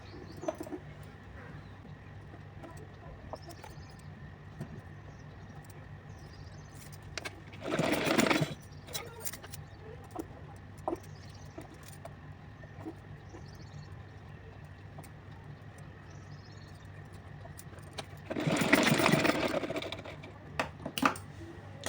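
Sewing machine stitching a frill on a small summer outfit for a Laddu Gopal idol, heard as two short bursts of whirring stitching separated by a long quieter stretch with faint clicks.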